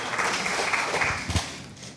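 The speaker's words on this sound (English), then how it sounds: "Clap him better than that, man." Applause from an audience at the Montego Bay Jerk Fest 2025 launch, a dense, steady patter of clapping that peaks briefly with a few louder claps before easing off.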